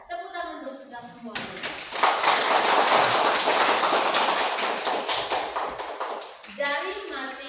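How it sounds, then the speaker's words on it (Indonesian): Schoolchildren in a classroom clap their hands together in a loud, dense burst lasting several seconds, with a teacher's voice speaking just before and after. "Tepuk tangan untuk kita semua."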